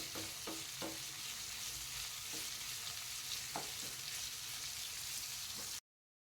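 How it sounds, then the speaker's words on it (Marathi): Ghevda beans fry and get stirred in hot oil in a home kitchen, a steady dense sizzle throughout with a few soft scraping clicks of the spoon, close and even, then abrupt silence. "अशा रीतीने आपल्याला घेवडा जो आहे तो तेलामध्ये चांगला परतून घ्यायचा आहे"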